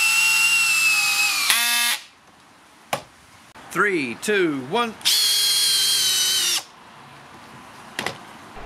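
Bosch and Makita cordless drills drive 10-inch (250 mm) screws into a sawhorse, loud whining motor runs that rise and fall in pitch with short stops between bursts, near and alone after a brief spoken countdown.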